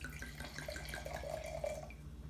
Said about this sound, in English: I'm going to pour myself a small glass of wine here.